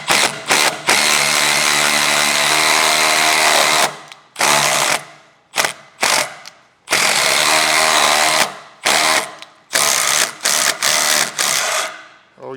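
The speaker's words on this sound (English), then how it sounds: "You don't use a drill to tap." A power drill is used to tap threads while building a van, whining loudly and close in long and short bursts with abrupt starts and stops.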